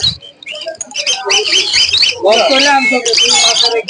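Loud, busy bird calls, shrill squawks and chattering whistles overlapping continuously, as from many colourful exotic cage birds close by.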